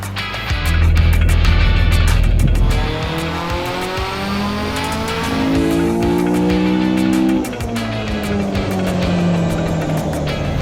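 K-swapped Honda Civic engine revving hard during a dyno pull, a loud close rising howl that climbs through the revs, dips, and climbs again before falling back toward idle.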